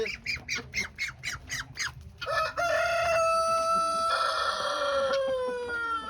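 A duck squawks loudly up close, a quick series of about eight harsh calls, then one long drawn-out cry.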